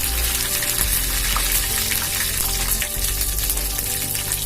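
Mustard seeds, dried red chillies and curry leaves tempering in hot oil, a loud dense continuous sizzle and crackle heard close up without any voice.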